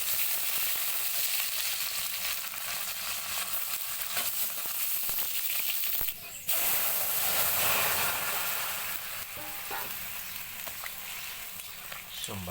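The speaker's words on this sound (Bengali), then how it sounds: "পেঁয়াজ কুচি দিয়ে দিলাম।" Chopped onion hitting hot oil with bay leaf and cumin for a chicken curry: a loud, continuous close-up sizzle, with a brief dip partway through, then the hiss surges again with a few faint stirring knocks.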